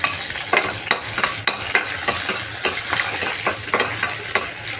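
Onions with tamarind and mint sauté in a pan for homemade pudina rice, a loud steady sizzle broken by regular scraping strokes of a spoon, close and with no voices.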